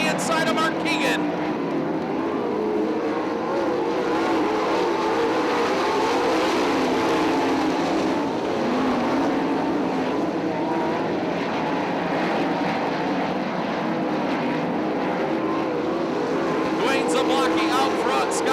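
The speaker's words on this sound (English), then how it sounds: "Here comes Brandon Martin in the 11M on the inside of Mark Keegan." 410 sprint cars roar around the dirt oval at Attica Raceway Park in Ohio, a continuous loud engine drone from a pack of cars with occasional louder passes, under a steady crowd-and-track wash.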